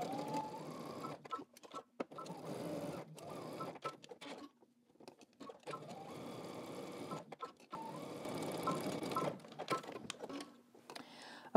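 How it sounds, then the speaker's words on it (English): A sewing machine runs in several bursts of rapid mechanical stitching, close and steady, with brief pauses between runs. "let's head to the sewing machine."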